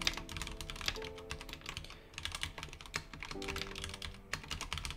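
Computer keyboard being typed on quickly and close by, a steady run of crisp key clicks with short pauses while git commands are entered.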